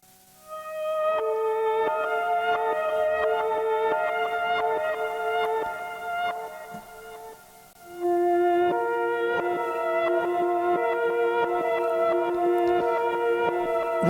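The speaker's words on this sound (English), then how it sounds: "I used one of Ableton's built-in instruments, which is Sampler, and it's a patch called Grand Piano Reverse" Ableton's Sampler plays its Grand Piano Reverse patch, with swelling backward piano tones in sustained chords and a shift to a lower chord midway, steady and alone with no voices.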